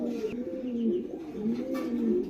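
Pigeons of several breeds and colours, including Lahore and racer types, coo continuously in a loft, with low rolling calls overlapping near and clear throughout.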